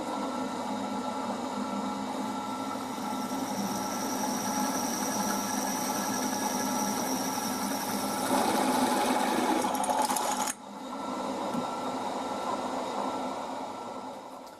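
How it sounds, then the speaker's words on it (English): A drill bit bores into a metal T-slot with a steady, high mechanical whir that holds for about ten seconds, then cuts off sharply before a quieter motor hum continues. "Obviously I've got the drill bit lined up with the T-slot."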